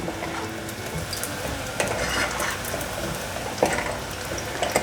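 Lotus root and tofu fry in very hot oil for a vegan home-style dish, giving a steady, close sizzle with scattered clinks and stirring scrapes across the whole stretch.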